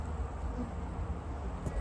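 A low, steady hum of many honeybees droning together at an open hive at close range, constant and unbroken with no voices.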